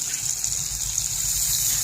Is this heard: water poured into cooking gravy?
yes